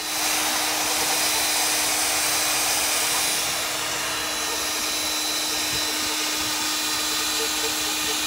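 Magnetic drill (CS Unitec mag drill) boring through the metal skin of a Boeing 747, a loud, steady high-pitched motor whine and cutting roar that runs continuously throughout, easing slightly partway through.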